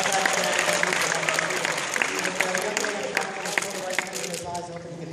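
Crowd applause at a high school hypnotism show, dense clapping throughout with faint talk mixed in underneath.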